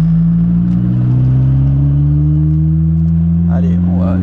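A Renault R5 Turbo 2 being driven gently while running in, its engine humming steadily and climbing slightly in pitch, heard from inside the car as someone talks over it.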